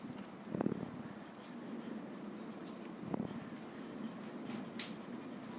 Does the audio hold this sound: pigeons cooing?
no